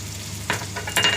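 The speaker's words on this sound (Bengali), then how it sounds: "এর মধ্যে আদা আর রসুন বাটাটা দিয়ে দেবো।" Ginger and garlic paste goes into hot oil with fried onions in a wok, bursting into sharp sizzles and crackles as it is stirred, close and loud with no speech.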